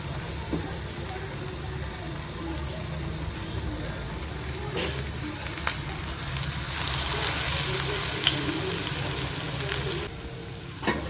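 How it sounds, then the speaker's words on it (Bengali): Food fries in hot oil in a home kitchen, a steady crackling sizzle with small pops throughout, growing a little louder midway, with faint background noise. "লাল লাল ভাজা হয়ে ফুলে ফুলে উঠেছে"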